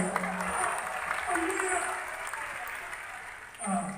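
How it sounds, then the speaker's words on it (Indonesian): Applause from a church congregation at a sermon, a steady, fairly quiet wash of clapping that runs for several seconds with a voice talking over it. "Yang sekarang mau tepuk tangannya, kita tepuk tangan aja"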